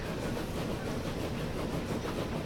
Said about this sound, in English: It's definitely the best steam engine in the entire game